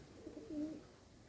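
Pigeons cooing softly in a rural setting where young wood pigeon chicks are being rescued and fed, a low murmuring coo that swells briefly near the middle and fades, faint and fairly close.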